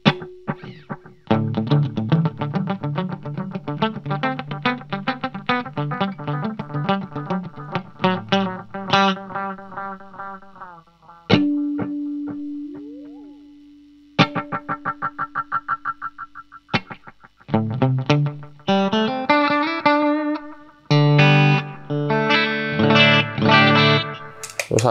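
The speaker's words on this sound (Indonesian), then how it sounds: "Lalu channel 6 ada carbon copy, ya analog delay sama ini digabung sama reverb." Electric guitar played through a Carbon Copy analog delay combined with reverb on a pedalboard: picked notes and strummed chords with trailing repeats and long washy tails, some held single tones, steady and loud with short gaps and no talking.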